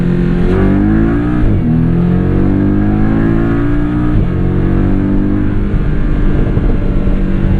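A 2017 Porsche 718 Boxster S PDK tuned by MTM pulls hard on a country back road, its engine loud and close, rising in pitch through the gears with brief dips at quick shifts, no talk over it.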